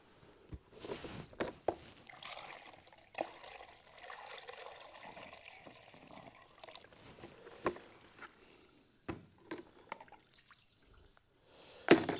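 Water is poured by hand into an engine's cooling system, with faint intermittent trickling, dripping and splashing broken by occasional soft clunks, close by and without talk.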